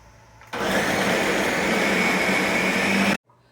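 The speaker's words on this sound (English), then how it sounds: "I just put everything into my Ninja, whatever it is, processor or something. I forgot how it's called, but we're gonna grind our meat." A Ninja food processor grinding meat for a bolognese, a steady loud whirring motor that starts abruptly, runs evenly for under three seconds and cuts off, with a faint hum before and after.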